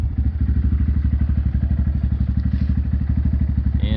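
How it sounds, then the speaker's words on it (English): A Honda Grom motorcycle engine idles after an oil change, chugging in a fast, even, close-up thumping rhythm that holds steady throughout. "I'm gonna run the bike one more time, make sure everything sounds right"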